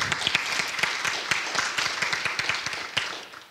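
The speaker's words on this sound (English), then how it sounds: "Another round of applause for the graduate students," An audience at a graduate student Q&A session claps for the presenters, a moderate-sized crowd giving steady, distinct clapping that carries on for a few seconds.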